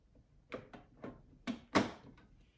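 The small plastic ink door on a Sawgrass sublimation printer is handled up close, giving a series of quiet clicks and knocks, about five in quick succession, the last being the loudest snap.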